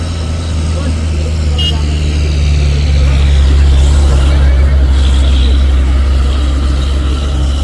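A bus speeds along a hilly road, a loud heavy engine rumble and road roar sustained close by, with excited voices talking over it.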